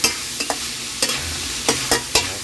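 Mixed vegetables with shrimp being stir-fried in a wok with oyster sauce and pepper, a loud sizzle broken by repeated sharp spatula scrapes and clanks in irregular rhythm.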